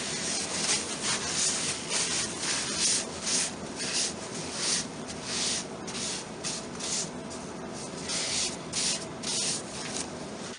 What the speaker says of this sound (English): Now I use a belt sander to sand down the pocket hole plugs.